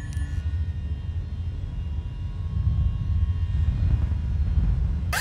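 Spaceship landing at Port Olisar in the Star Citizen video game: a loud, steady engine roar and rumble that swells slightly toward the end, with a brief tone at the start.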